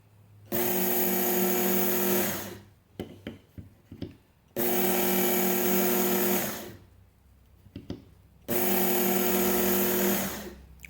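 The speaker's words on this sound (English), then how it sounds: "So let's do some honing," A Work Sharp Knife & Tool Sharpener MK2 belt sharpener hones a knife at 20 degrees. There are three loud, steady motor runs of about two seconds each, separated by quiet gaps with small clicks and scrapes.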